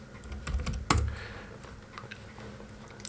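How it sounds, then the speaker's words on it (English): Someone types on a computer keyboard at a console, giving a quick cluster of soft, close key clicks with one sharper tap, then sparse light taps in a quiet room. "I can type something."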